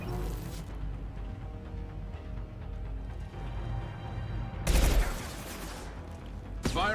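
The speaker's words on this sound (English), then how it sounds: "Firing a high impact shot" Gunfire in Mass Effect 2, a high impact shot: dense rumbling bursts with two sharp loud blasts near the end, close and punchy over background game sound.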